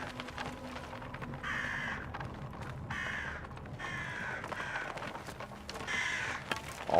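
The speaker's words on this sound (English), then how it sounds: "What's that sound? Is that, oh, it's a bird." Crows caw in the video game Atomfall, a series of harsh, rasping calls repeating at a steady pace against a low ambient background, with no talk over them.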